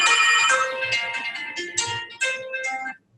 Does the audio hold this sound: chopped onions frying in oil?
no